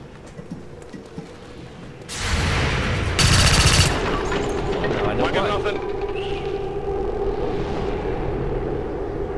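A loud burst of gunfire in the XCOM 2 video game, combat on Legendary difficulty against a Muton, with a few rapid volleys clustered together and then fading, while people talk over the action.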